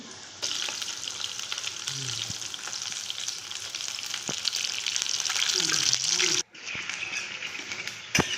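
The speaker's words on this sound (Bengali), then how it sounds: "আমি এটা এমনি ফ্রাই করে নিচ্ছি" Momos sizzle steadily while being fried and stirred in a wok, a continuous close frying hiss with occasional scraping stirs, briefly dropping off near the end before resuming.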